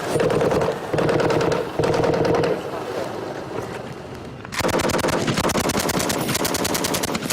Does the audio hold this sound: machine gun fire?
yes